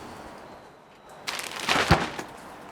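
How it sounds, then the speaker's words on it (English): An umbrella opens on a rainy day in Dobuita, Japan, a close rustling whoosh of fabric that swells over about a second and ends in a sharp snap, heard alone against quiet background hiss. "That was the sound of an umbrella opening."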